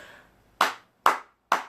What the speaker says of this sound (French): Applaudissons pour David Eto'o qui a ouvert son truc